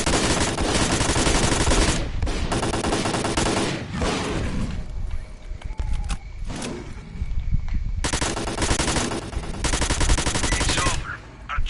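Sustained automatic gunfire in the video game S.T.A.L.K.E.R. Call of Pripyat Remastered, loud and continuous bursts with a short lull mid-way before the firing resumes heavily, no talk.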